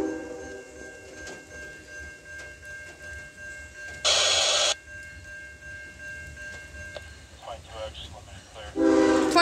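A Norfolk Southern freight train led by an old white-faced GE Dash 9 locomotive passes through Bethlehem, giving a steady mechanical rumble with a sustained tone, one loud burst midway and another near the end.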